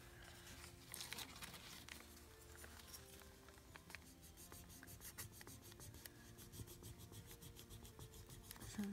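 A rub-on transfer being rubbed onto a paper belly band embellishment, producing close, continuous scratchy rubbing with light crinkles and small taps, no talk.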